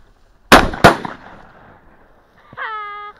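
Two sharp, loud shotgun blasts fire in quick succession during a hunt, followed by a fading tail and then a brief voice calling out.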